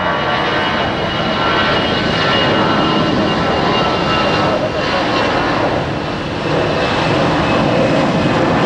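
A Frontier Airlines jet in shark livery at Tampa International Airport gives a steady, broad engine roar that holds loud and continuous throughout, with a voice talking faintly underneath.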